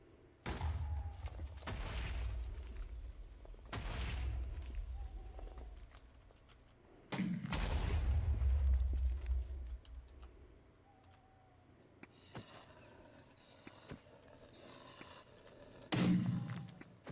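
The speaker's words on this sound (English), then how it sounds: "I guess that's why I hear explosions." Explosions in the Minecraft modpack MC Eternal, video game: several separate booming blasts with long decaying rumbles, spaced a few seconds apart, with faint ticking and clicks between them.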